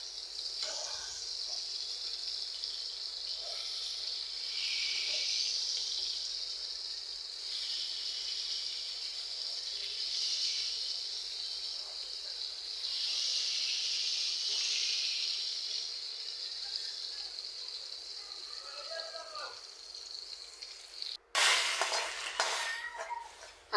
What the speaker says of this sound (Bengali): এই তো ভাজাটা কিন্তু হচ্ছে